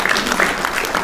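Audience applause at a men's health policy launch and discussion forum, a steady wash of clapping hands sustained across the whole second at moderate loudness, with no voices over it.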